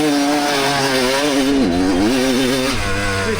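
A 25-year-old Kawasaki KX250 two-stroke dirt bike engine revs hard and close, its buzzing pitch climbing, dipping sharply, then rising again in a raspy, continuous wail with no talking.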